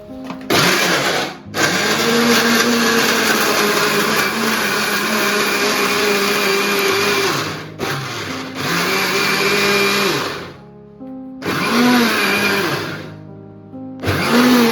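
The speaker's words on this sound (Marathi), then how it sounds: "आता आपण मिक्सरमध्ये हे बघा इथे वाटण आपलं वाटून घेऊया" A mixer grinder grinds spice paste, whirring loudly in several bursts, running for long stretches with brief pauses and a few shorter pulses near the end.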